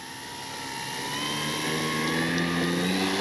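A CNHL Bison XT RC bush plane with takeoff flaps set, its electric motor whining steadily and rising in pitch and loudness as it throttles up for takeoff, no talking over it.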